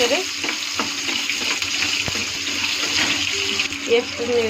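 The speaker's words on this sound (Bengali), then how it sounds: "কাঁচা লঙ্কা দিয়ে দিলাম। তার মধ্যে পেঁয়াজটা দিয়ে দিলাম। পেঁয়াজটা একটু নেড়ে" Chopped onion and green chili stir-fry in a pan, a steady close sizzle of frying with occasional stirring scrapes, while a voice speaks faintly underneath.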